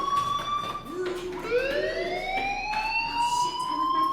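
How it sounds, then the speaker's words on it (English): A school fire alarm in the video game Life is Strange wails with tones that glide upward in pitch, sounding continuously and moderately loud over a low background hum. "Hey, do you hear that fire alarm?"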